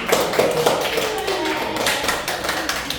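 A classroom full of people claps continuously in dense, fairly loud applause lasting the whole stretch.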